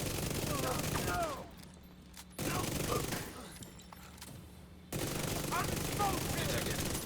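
Rapid automatic fire from an LMG enemy in the video game Division 2 comes in three sustained bursts separated by short lulls, loud and dense, with sharp crackling shots.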